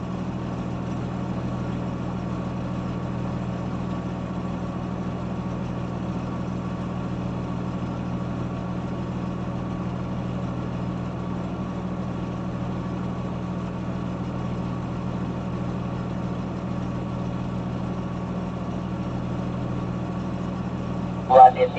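A motor grader's diesel engine runs steadily at a low, even rumble throughout, moderately close on a hauling road under repair, with a brief louder knock at the very end.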